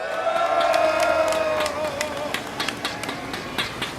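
A crowd at an outdoor political rally in Jeju roars and cheers, loud and sustained at first, then thinning into scattered shouts and claps, with a tonal whistle-like sound sliding through the early part.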